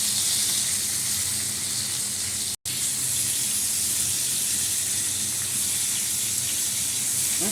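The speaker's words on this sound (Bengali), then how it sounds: "এই তেলের মধ্যে জিরা ফোড়ন দিয়ে এই পটলগুলো একটু নাড়াচাড়া করে নিচ্ছি" Pointed gourd pieces frying in oil with cumin seeds, a loud, continuous hissing sizzle close by, briefly cut off once, then resuming evenly without talk.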